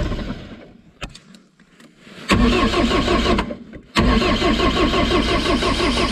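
A cheap old wheel loader being started with starter fluid: the starter cranks in bursts, the engine catches with loud coughing starts, then settles into a rough, heavy running rumble close by.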